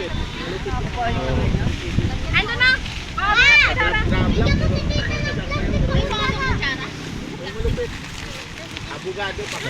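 Strong wind gusts buffet the microphone on a mountaintop picnic spot, a rough roaring rush that swells and fades under people talking and laughing nearby.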